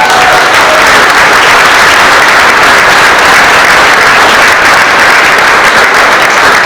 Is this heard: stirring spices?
no